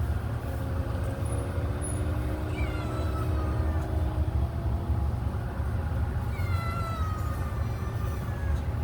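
Outdoor cat meows faintly a few times over a steady low traffic rumble, with a trapped feral cat or kitten nearby; no one talks.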